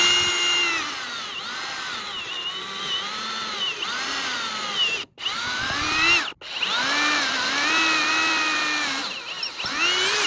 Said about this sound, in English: We're going to drill a 3/8 inch hole.